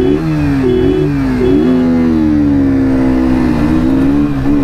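A Pulsar NS 125 and a KTM RC 125 motorcycle accelerate hard in a drag race, a loud, close, steady engine drone with rising and shifting pitch as the bikes pull away.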